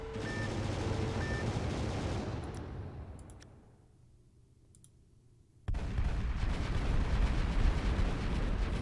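Thermal guns in a battleship video game fire in a dense, continuous roaring barrage that fades into a quiet stretch with a few sharp clicks, then abruptly resumes at full loudness.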